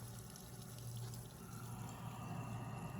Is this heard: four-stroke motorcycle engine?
no